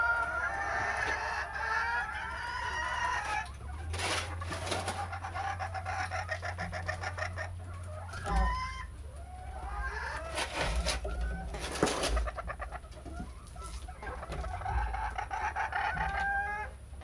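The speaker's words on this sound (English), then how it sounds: "The chickens are up early." Chickens clucking and a rooster crowing in the early morning, several crows and squawks rising over steady nearby clucking, with a low hum underneath.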